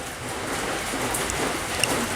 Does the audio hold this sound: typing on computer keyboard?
no